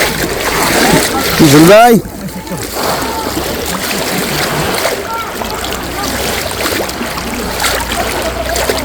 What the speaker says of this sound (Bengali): শিকারী জজমিয়া ভাই ডুব দিছে।